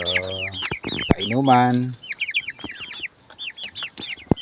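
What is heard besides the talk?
chickens clucking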